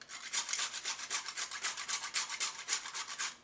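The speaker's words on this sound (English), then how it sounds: "I have 1 fresh nutmeg that I'm going to grate in here" Fresh whole nutmeg grated for a currant and fruit roll dough, a close, steady rasping scrape in quick regular strokes with no talk.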